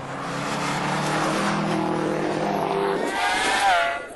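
A Subaru WRX races on a track, its engine roaring loud and close. The pitch climbs and falls as the car accelerates and passes, and a higher whine rises near the end.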